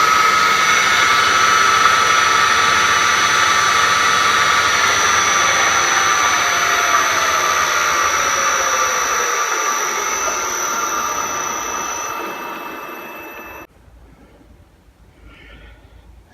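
An AL960B metal lathe driven by a VFD runs at its highest speed, its gearbox giving a loud, steady whine with layered tones that slowly drops away before the machine shuts off near the end.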